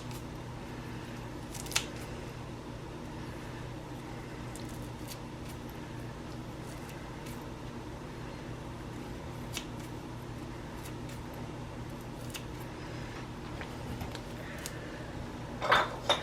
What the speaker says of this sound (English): It's just multiple scissors that cut it at once.